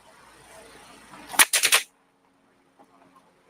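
Single action revolvers fire at a shooting match, four sharp shots in a fast cluster, preceded by low background murmur and followed by near silence.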